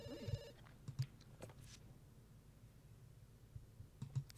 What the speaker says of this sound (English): Go answer the phone.